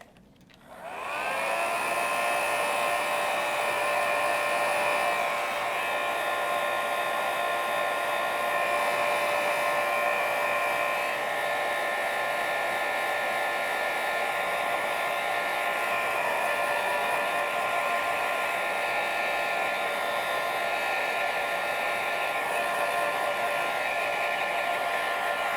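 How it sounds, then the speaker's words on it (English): A hair dryer switches on and blows continuously at close range, drying acrylic paint on a card with a steady, high whirring roar that holds without pause. "I am going to hit this with the blow dryer"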